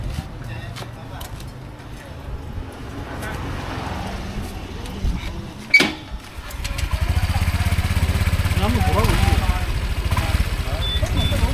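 A motorcycle engine, under inspection for a fault, runs steadily with a low rumble, revving up after a brief sharp noise midway; people talk nearby.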